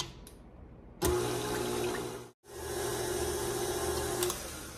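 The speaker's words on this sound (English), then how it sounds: "let's go ahead and give this a mix. I'm gonna just put my mixer on low." An electric mixer on low speed beats cheesecake batter, giving a steady whirring hum with a faint tonal whine that cuts out briefly, then resumes.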